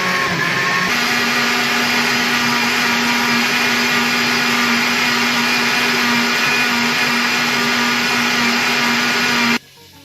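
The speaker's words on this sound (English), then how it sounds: "It's going into the blender. Then we blend." A kitchen blender blending barbecue sauce runs loud and steady for about nine seconds, then cuts off abruptly.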